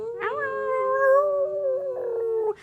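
A person imitates a wolf howl with their voice, giving one sustained, wavering howl that rises and holds for over two seconds, close and clear with no other sound around it.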